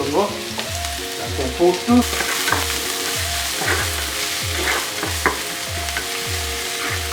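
Onion frying in a pan, a bright continuous sizzle with rhythmic stirring scrapes and a low repeating thump, a brief spoken word over it.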